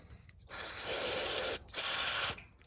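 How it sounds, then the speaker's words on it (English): Two loud, close bursts of aerosol spray hissing steadily while cleaning out a Polaris Sportsman 500 water pump housing, the first about a second long and the second slightly shorter, separated by a brief pause. "it'd be a good time probably to spray this out"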